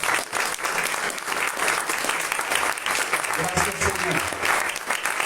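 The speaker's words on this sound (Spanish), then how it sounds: "¿Le puede dar un aplauso a nuestro Dios?" A church congregation applauds during a Spanish-language service, steady dense clapping from a crowd throughout, with a voice speaking over it.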